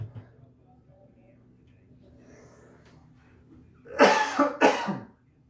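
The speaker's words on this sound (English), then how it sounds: "Hopefully that cough wasn't too loud" Two harsh coughs burst out close and loud in quick succession after a stretch of near silence.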